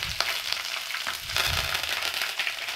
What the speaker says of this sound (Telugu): లైట్ గోల్డెన్ బ్రౌన్ వచ్చేంత వరకు ఫ్రై చేసుకోవాలి